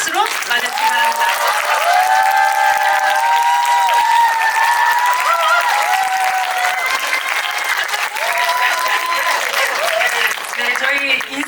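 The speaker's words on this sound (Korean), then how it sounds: "큰 박수로 맞아주시기 바랍니다." A theatre audience applauds steadily as the actors and director of a Korean film are welcomed on stage at a screening talk, the clapping loud and sustained throughout, with cheers and voices mixed in.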